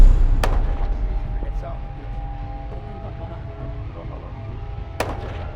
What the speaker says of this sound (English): Security forces fire tear gas and gunshots into the air.